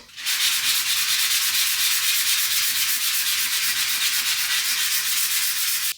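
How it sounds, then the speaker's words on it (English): Continuous rhythmic sanding, rapid back-and-forth scraping strokes close by, loud and steady for several seconds with no voices. "I'm gonna do a little bit of sanding"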